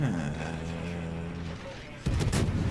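Guns of the Minotaur cruiser opening fire in a naval battle video game: a sustained engine-like hum gives way to a sudden loud burst of gunfire near the end, with a voice speaking over it.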